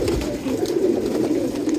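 Pigeons coo in a steady low, throaty murmur close by as they are let out of a cage, with no talking.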